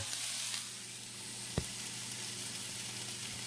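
A roux cooks in a pan with a soft, continuous sizzle, fairly quiet and close, broken once by a single sharp clink.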